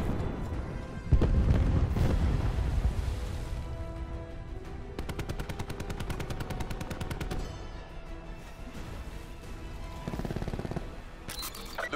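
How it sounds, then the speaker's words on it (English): Cluster grenade explosions and gunfire in Call of Duty Black Ops 4: a heavy boom followed by dense bursts of rapid automatic fire and scattered blasts, loud and continuous game combat. "Cluster grenade. Enjoy."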